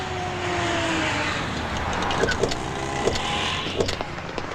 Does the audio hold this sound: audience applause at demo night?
no